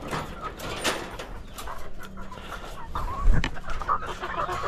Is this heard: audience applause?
no